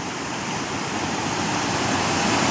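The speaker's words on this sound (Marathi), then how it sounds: "लय पुरे आहे ओढ्याला" Loud, steady roar of rushing floodwater in a swollen stream, a dense continuous wash of noise with no voices.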